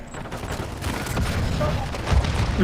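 Dense, continuous gunfire and booming explosions from the mobile shooter Warzone Mobile in a 16-player-per-side mode, loud and cluttered, with no clear pauses.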